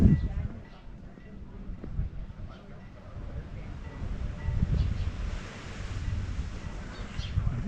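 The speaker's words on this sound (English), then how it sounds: "Some little waves." Small, choppy sea waves lap at the harbour at Puerto de Pollensa, forming a steady low wash under gusty wind noise on the microphone, with some faint rustling.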